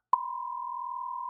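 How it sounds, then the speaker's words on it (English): A single steady censorship bleep tone, clean and sustained for over a second, cutting in abruptly and holding at constant loudness with no talk over it. "Here, I'll say it and you beep it out, okay?"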